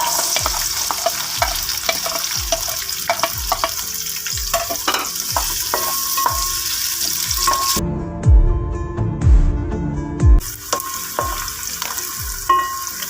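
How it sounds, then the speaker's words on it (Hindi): Onions sizzle in a hot pan for bhindi masala while a spoon stirs and scrapes them in a steady repeated rhythm, with a short pause where bubbling frying continues alone. "अब आप इसमें प्याज डाल दें।"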